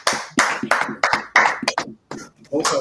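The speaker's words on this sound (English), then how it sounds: "clap it up" Scattered, uneven handclaps from a small group at a street preaching gathering, sharp separate bursts with short gaps, mixed with voices calling out.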